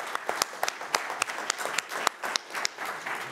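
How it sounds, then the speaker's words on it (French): A small group applauds, sparse, distinct claps standing out sharply in an uneven rhythm rather than a full ovation, fairly close, with a faint murmur of voices underneath. "On peut applaudir ou pas encore?"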